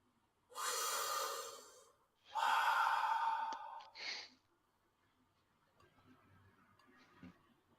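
Two long, deep breaths in a breathing exercise, each a loud, close rush of air lasting more than a second, followed by a short sharp exhale and then quiet, faint rustling.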